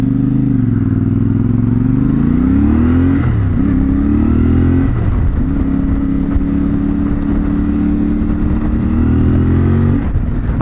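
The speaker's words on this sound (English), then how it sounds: "I'm deliberately keeping the revs low for now as I'm riding around, just to help break the engine in" A CFMOTO 450MT motorcycle being ridden at deliberately low revs during engine break-in, its steady parallel-twin drone rising and dipping gently with throttle and gear changes, close and continuous with no talking.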